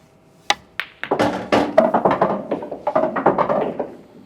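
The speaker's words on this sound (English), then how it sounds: "hit my red into the yellow ball and follow the red through as well" On an 8-ball pool table, a cue ball strikes a red ball into a yellow one: two sharp clacks, then a busy run of knocks and rolling rumble as the balls travel.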